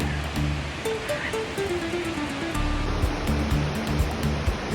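Rio Celeste river in Costa Rica flowing steadily, a continuous close rush of water that fills the whole stretch without letup, with no one talking.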